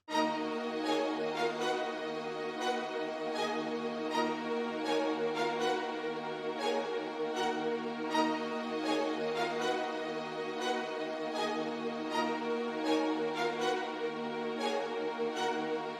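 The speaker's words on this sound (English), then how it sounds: "Our first variation melody with our legato strings combined sounds something like this." An orchestral melody played on a legato strings preset in FL Studio, a sustained, layered string line that runs steadily and fairly loud throughout, with no voices.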